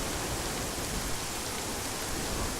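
Steady rainfall in the Arma 3 game, a continuous even hiss of dense drops with no breaks and no voices, holding at a moderate level throughout.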